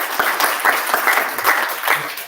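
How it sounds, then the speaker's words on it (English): Dense applause from a crowd at a district council meeting, a steady wash of many hands clapping at once, loud and sustained. "One more round of applause."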